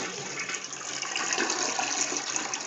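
A toilet flushing in a home bathroom, a steady rushing gush of water running loud and close for the whole stretch with no voices over it.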